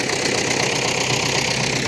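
An MTZ-80 tractor engine runs steadily while ploughing a snowy field with a plough, a loud, close, continuous diesel drone with an even rumble and no voices.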